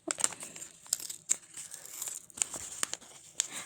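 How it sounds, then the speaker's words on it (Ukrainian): Crinkly paper packaging rustles and tears in a series of sharp, close bursts, with brief pauses between the crackling rips. "А вже не сохраню, вже порвався."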